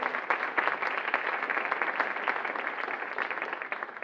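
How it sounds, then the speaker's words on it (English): An audience at a keynote address gives a round of dense, steady applause for about four seconds, fairly distant and evenly sustained, without speech over it. "just acknowledge them with a round of applause, please."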